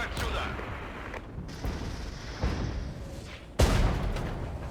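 Enemy counter-battery artillery fire in the strategy game Regiments: a string of dull thuds under a constant rumble, ending in a sharp, loud impact near the end.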